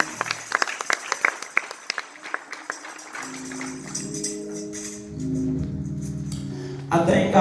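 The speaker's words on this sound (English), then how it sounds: "Let's clap your hands for Jesus on today." Sunday worship congregation clapping for Jesus, a run of sharp separate claps at first, then organ or keyboard chords and continued clapping beneath voices.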